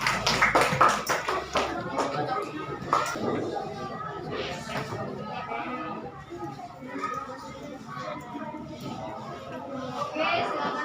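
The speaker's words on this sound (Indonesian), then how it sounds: "Oke, berikan aplaus dulu." A group of students in a school classroom briefly applaud a group's answer. The scattered clapping is loudest at the start and fades into ongoing children's chatter and talking.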